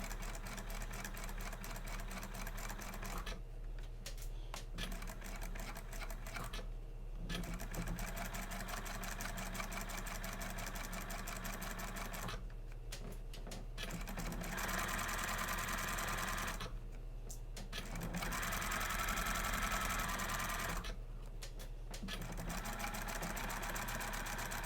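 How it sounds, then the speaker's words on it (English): Sewing machine stitching a Peter Pan collar with back stitching, its rapid mechanical whir running in several bursts separated by brief pauses, close and fairly quiet. "I'm going to make sure that I back stitch at the start of the collar"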